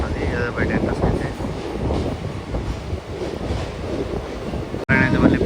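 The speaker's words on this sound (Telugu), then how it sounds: "ట్రైన్ అయితే మళ్ళీ మెయిన్ లాగా ఎంటర్ అయిపోయింది" The Kanniyakumari Special Express rumbles along the rails between Visakhapatnam and Tirupati, a continuous rushing roar mixed with wind buffeting the microphone, a faint voice now and then, and a sharp brief knock near the end.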